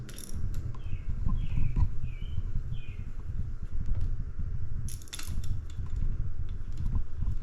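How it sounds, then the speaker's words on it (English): A torque wrench ratchets and clicks while bolts are tightened to spec on a Yamaha JN6 gas golf cart engine during short block assembly, with irregular mechanical clicks and creaks over a low hum and no talking. "we'll torque everything to 19"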